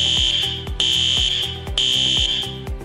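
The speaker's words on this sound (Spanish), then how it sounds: "En caso de que se presentara una emergencia, escucharás una alarma como esta." An emergency fire alarm in a facility sounds loud and close, a steady shrill electronic tone broken by rapid rhythmic pulses that repeat in cycles and carry on for the whole stretch, with no voices.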